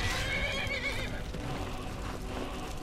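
A horse in Skyrim whinnies loudly at first, then the call fades into a muddled background of game noise for the rest of the moment.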